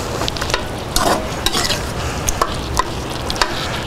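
A spoon works through coney meat sauce in a hot pan, scraping and clacking in irregular strokes over a steady close sizzle.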